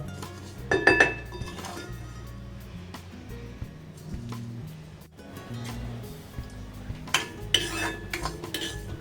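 Barnyard millet (varai) is roasted in a pan for upma, with a spoon scraping and clinking against the metal in irregular bursts over a low background hum, no speech.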